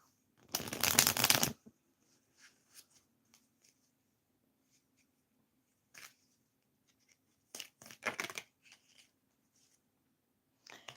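Tarot cards being shuffled close by: one loud riffling burst at the start, then a few softer shuffles and taps later, with quiet gaps between them.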